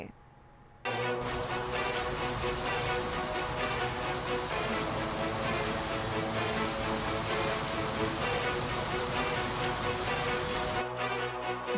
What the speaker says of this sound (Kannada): ಉತ್ತರ ಕನ್ನಡದಲ್ಲಿಂದು ಏಕಾಏಕಿ ಮಳೆ ಸುರಿದಿದೆ